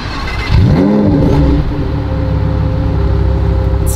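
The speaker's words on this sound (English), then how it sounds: "It's not exactly a cold start, but still sounds good." Mercedes-AMG GT Black Series engine, a 720-hp V8, fires up close by with a rising starter whine into a loud revving burst, then settles into a steady, deep rumbling idle.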